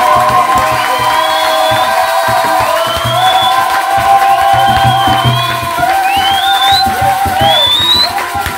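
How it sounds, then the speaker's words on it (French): A church congregation cheers and acclaims loudly together, a steady crowd roar with whoops and shouts running throughout, close and full, with music or voices underneath. "Acclamons très fort."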